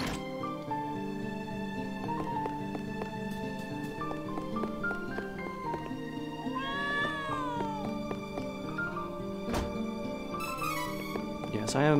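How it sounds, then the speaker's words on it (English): Cats meowing in Trials of Mana Remake, several clear mewing calls over steady game music, with a rising, wavering cry near the middle. "I am making a point to talk to all of the cats"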